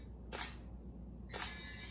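A camera shutter on a gesture-controlled camera platform clicks twice, about a second apart, each a short crisp snap heard alone against a faint low hum.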